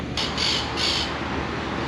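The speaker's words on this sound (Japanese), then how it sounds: "鳥のさえずりが聞こえます。" Two short bursts of bird calls rise over a steady, loud background noise in Malaga, Spain, bright and squawky rather than melodic.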